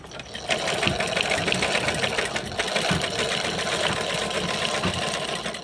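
A sewing machine runs continuously at a steady, rapid clatter, with no talking.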